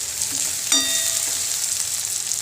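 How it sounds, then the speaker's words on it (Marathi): Onions fry in a pan with a steady, fairly loud hiss, and a single light metallic clink comes near the start; no one speaks. "कांदा भाजायला लागलाय"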